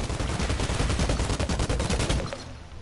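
Dual guns firing in the looter shooter Outriders, a rapid close stream of sharp gunshots for over two seconds that stops abruptly.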